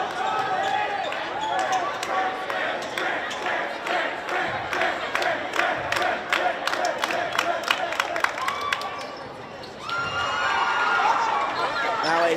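A basketball crowd in a gym roars and cheers steadily, with sharp ball bounces and claps cutting through and a swell of noise near the end, while a commentator talks over it.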